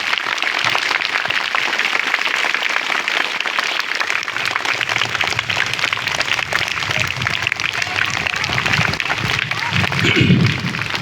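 An audience at a Brahma Kumaris anti-addiction programme gives visiting guests loud, sustained applause: dense, even clapping that fills the room without a break.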